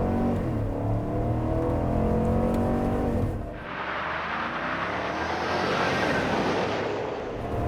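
A 2023 GMC Yukon Denali Ultimate with a 6.2-liter V8 launches hard without launch control, its engine revving up with a deep rising roar, then shifting into a broad, steady rush of engine and road noise.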